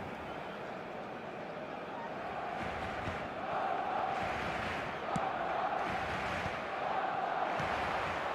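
Football video game stadium crowd for a Madrid match, a steady broad roar of massed spectators with rising murmurs and swells, heard behind play-by-play commentary.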